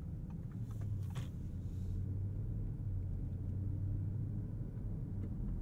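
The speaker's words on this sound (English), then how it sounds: "4-liter twin turbocharged V8." The 4-liter twin-turbocharged V8 of a 2022 Audi S8 L gives a steady, low rumble heard from inside the cabin, with a few faint clicks early on.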